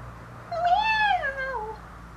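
A single cat meows once, a clear rising-then-falling cry lasting about a second, close by against quiet room tone.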